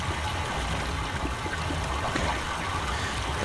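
Water flows through pipes in the 2021 Myst video game, a steady, dense rushing and trickling wash that stays even and close throughout with no pauses.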